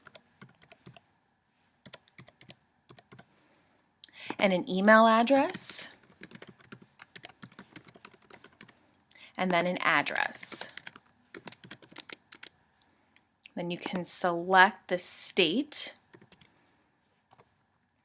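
Fingers type client details into insurance client-management software on a computer keyboard. Quick bursts of light key clicks fall between and beneath a person talking.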